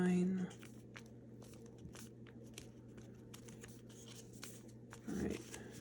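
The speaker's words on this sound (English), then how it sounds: "Flip that over, fold it so that it's in line." Paper is creased and flipped while folding an origami dragon, with soft close rustling and crinkling through most of the clip, and a voice talking briefly at the start and end.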